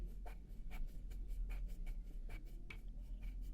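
A colouring pencil scratches across paper in quick, regular strokes, a light rhythmic scribbling close by with no talking.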